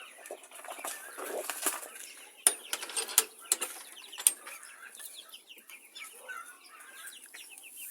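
Chickens and small chicks in a yard, with soft clucking, cheeping and scuffling throughout and a few sharp louder knocks, at moderate to faint level with no talk.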